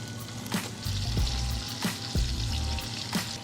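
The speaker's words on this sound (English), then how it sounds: "I'll go ahead and just put this bacon in here. And again, this is beef bacon" Beef bacon sizzling and frying in butter in a pan, a steady close crackle with a few low thumps and scrapes as strips settle, no talking.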